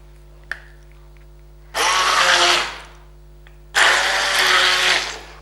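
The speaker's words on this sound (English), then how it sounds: "I have a hand blender, so it makes things easier." Hand blender pureeing cooked pumpkin runs in two loud bursts of about a second and two seconds, a gritty whirring buzz close up, separated by quiet pauses with a faint low hum.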